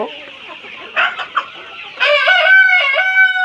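Chickens and roosters squawk and cluck hungrily at feeding time, a few short clucks giving way to loud, drawn-out crowing calls that fill the second half, close by and with no talking.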